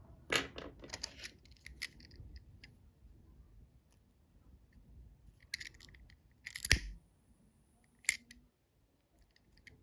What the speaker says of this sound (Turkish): Şimdi alttan yürüttüğüm ipimi rahatlıkla kesebilirim.